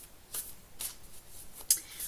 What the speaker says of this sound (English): So I'm just going to shuffle these and we'll see what little bit of guidance we get for today.